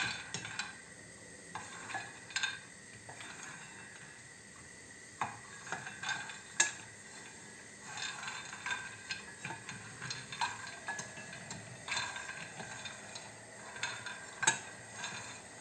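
Hazelnuts are stirred and roasted in a pan, giving quiet, close scraping and rattling with irregular clicks and ticks as the nuts shift against the metal, over a faint background sizzle.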